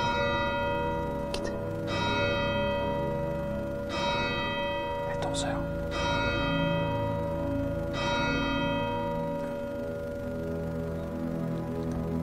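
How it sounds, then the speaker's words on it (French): Church bells ring out in slow, repeated strikes with long resonant humming tones between them, loud and sustained beside a historic temple building. "on a les cloches de l'église avec nous."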